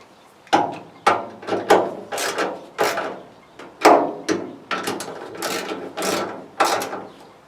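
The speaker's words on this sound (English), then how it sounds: "Now let's just tighten all this down." A ratchet wrench tightens hood bolts on a 1966 Chevy C20 pickup truck, giving a dozen or so sharp, close mechanical clicking bursts in a steady, uneven rhythm with no talking.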